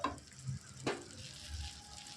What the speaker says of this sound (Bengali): এটা আমার ভাজা হয়ে গেছে।